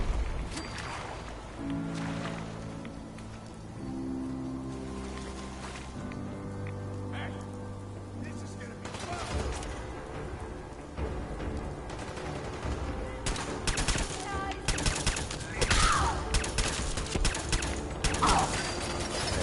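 Raiders fire guns in Fallout 4: sharp gunshot cracks scatter through the second half, some in quick bursts, over a rain-like ambient bed. Earlier stretches carry a tonal music or mechanical hum.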